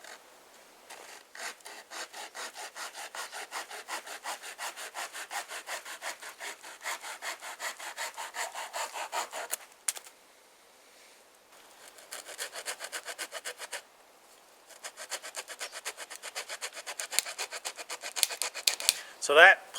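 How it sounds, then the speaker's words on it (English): A pocket chainsaw cuts through wood in steady, rapid back-and-forth strokes, loud and close, pausing briefly mid-cut before sawing resumes in a second run of strokes. "So that pocket chainsaw worked well."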